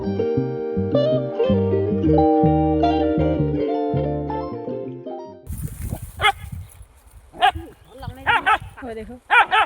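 Tuneful music plays, then cuts to a dog barking several times in uneven bursts, fairly close, with some background noise, during a garlic harvest on a village farm.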